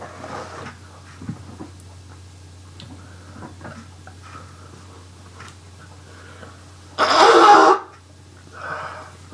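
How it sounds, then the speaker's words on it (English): After quiet ticking and small handling sounds, one loud, forceful nose blow rushes out, followed by a softer second blow. "I'm going to go ahead and blow my nose now."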